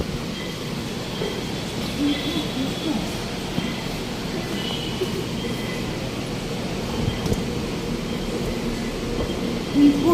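Steady rumble of an MRT train station on EDSA in Manila, a continuous low roar of rail traffic with faint squeals, moderately loud and unbroken throughout.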